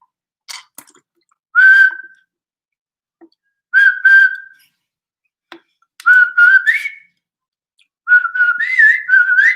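Several short bursts of clear, melodic whistling, separated by pauses and a few faint clicks, close and loud.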